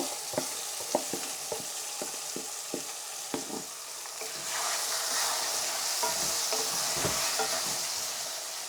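Marinated pabda fish goes into a pan of lightly fried onions: first a series of spaced spatula taps and clacks over a soft sizzle, then a sudden, louder and sustained frying hiss that holds to the end.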